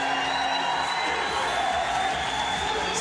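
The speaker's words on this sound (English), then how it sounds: "Still the crowd are chanting and cheering." A large arena crowd at a fight in Dublin roars continuously, a dense, loud wash of chanting and cheering with no clear pauses.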